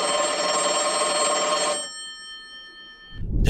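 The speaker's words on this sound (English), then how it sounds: "The phone is ringing." A telephone bell rings loudly and steadily for nearly two seconds, then stops, leaving a faint ringing tail before a low rumble rises at the end.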